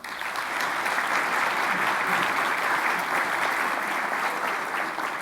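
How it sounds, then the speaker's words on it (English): An audience at an education awards celebration gives sustained applause, a dense, even wash of many hands clapping that holds steady throughout, fairly loud, with no talk over it. "Please, another round of applause."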